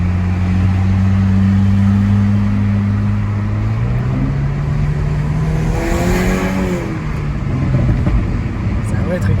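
A modified Audi A5 engine drones steadily and then climbs in pitch as the car accelerates, loud and close inside the cabin, with voices talking over it.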